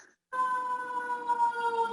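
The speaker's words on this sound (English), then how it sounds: "As we hear the siren coming through." Emergency vehicle siren wailing steadily in a sustained, fairly loud tone that starts abruptly and holds without pause, heard alone with no talk.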